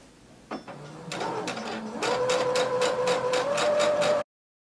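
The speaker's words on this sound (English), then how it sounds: "Begin sewing, backstitch, and let's continue sewing until we get to that bottom notch in our pocket" Sewing machine sewing a maxi skirt side seam with a backstitch: a click, a short reverse run, then a steady rising whir with a rhythmic needle beat that stops abruptly, close and clear.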